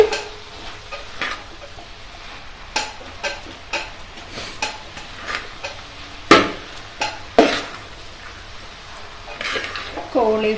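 A spoon stirs vegetables, cauliflower, potato and carrot, frying in a pan for vegetable biryani, giving a series of scraping, clinking strokes over a soft background sizzle, close up.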